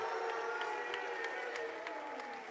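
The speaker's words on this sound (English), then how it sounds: "And the crowd loves it." A crowd at a championship basketball game applauds and cheers, a dense, steady wash of clapping and voices that holds throughout at moderate distance.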